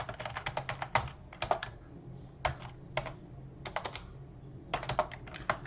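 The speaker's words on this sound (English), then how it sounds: "let's go ahead and type in that code here" Fingers type code on a computer keyboard in quick, uneven bursts of crisp clicking, separated by short pauses. The keys sound close and clear, with no talking over them.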